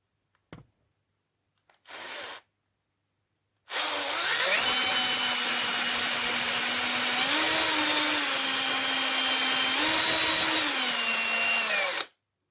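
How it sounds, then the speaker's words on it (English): Power drill boring into the stud of a vintage LEGO brick: two brief test bursts, then a loud, close, sustained whine for about eight seconds, with the pitch dipping and rising slightly before it stops. "that will guide your drill precisely to the middle of the stud here"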